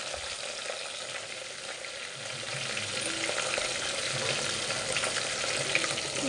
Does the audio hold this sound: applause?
no